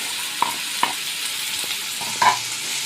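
A spoon stirs ground green chilli paste with turmeric into cluster beans (gawar) in a pan, giving a few sharp scrapes and clinks over a soft, steady sizzle close by.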